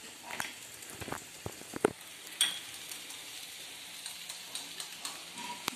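Garam masala and aloo dum spice mix crackling in a pan for a vegetarian potato curry, a soft steady sizzle with scattered sharp pops and a few louder snaps, close and alone.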